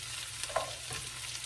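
Sliced leek lands in a pan of butter and pancetta juices and fries with a soft continuous sizzle, broken by a small stirring clatter midway.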